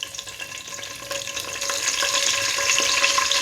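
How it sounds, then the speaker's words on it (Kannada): Cinnamon and cloves sizzle in hot oil with a dense, crackling hiss that grows steadily louder, heard up close with no voices. "ಎಣ್ಣೆ ಬಿಸಿಯಾಗಿದೆ. ಇದಕ್ಕೆ ನಾನು ಚಕ್ಕೆ ಲವಂಗ ಹಾಕ್ಕೊತಾ ಇದ್ದೀನಿ."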